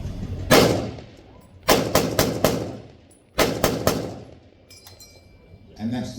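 An M1 Garand rifle firing until its clip ejects, at a 1940s-themed weekend at the Mid-Norfolk Railway: about eight sharp, loud shots outdoors in quick clusters, each cracking and echoing before fading.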